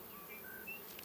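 Honeybees at an open hive being closed up give a faint, steady buzzing drone with brief higher wingbeat whines from single bees passing close, continuous over a short moment.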